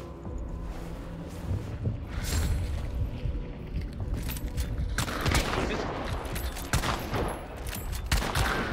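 Rapid gunfire crackles in the video game Hunt: Showdown, with bursts of shots and booming reports stacked close together over several seconds and no talk.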